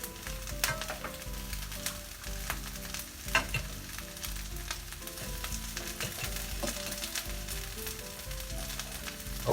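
Hash browns sizzle and fry steadily in a hot skillet, a continuous crackling hiss with occasional scrapes and soft knocks of a spatula, fairly close and alone without talk.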